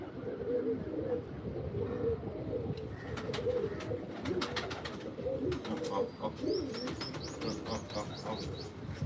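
Soft pigeon coos repeat in a low murmur, with some higher chirps and tweets from other birds nearby.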